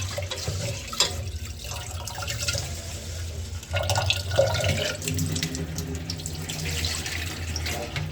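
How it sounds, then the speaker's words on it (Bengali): Tap water runs steadily into a kitchen sink while rice is soaked, a continuous splashing with a few sharper clinks and louder surges. "আমি ভাতের চালটা ভিজিয়ে নিলাম"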